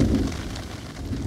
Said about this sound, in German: Der Regen kommt und mit ihm naht auch das Gewitter.